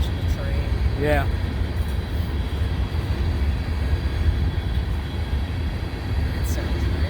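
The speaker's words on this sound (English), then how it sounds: "Might just be watching the train." A train rolls past at Canal Ridge Road with a steady, continuous rumble and rail noise at moderate distance, and people talk over it.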